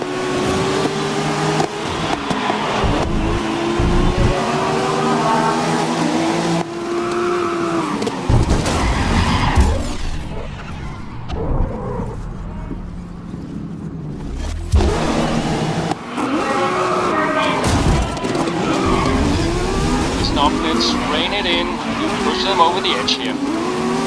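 Race cars roar through a race in the Grid 2019 video game, with repeated tire skids and squeals, engines revving and cars passing, loud and continuous apart from a brief quieter lull, while someone talks over it.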